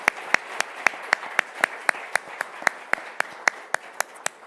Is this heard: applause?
yes